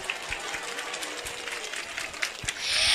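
Audience applause for a singer at a live stage show: a steady, dense wash of claps that swells louder near the end.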